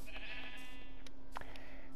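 Sheep bleating in the Minecraft video game, several short wavering bleats close by over a steady low in-game background hum.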